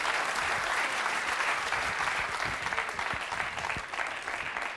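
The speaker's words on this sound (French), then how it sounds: "On peut les applaudir très fort." An audience in a hall claps loudly for guests returning to their seats, a dense steady patter of applause with a few sharper individual claps, fading slightly toward the end.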